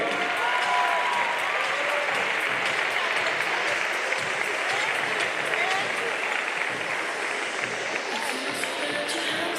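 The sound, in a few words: applause for a wheelchair handball match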